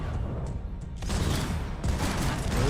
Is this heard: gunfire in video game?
yes